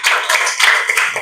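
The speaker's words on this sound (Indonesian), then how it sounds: "tepuk tangan buat kita semuanya" A fifth-grade class gives a short burst of applause in the classroom, brisk clapping that lasts only about a second.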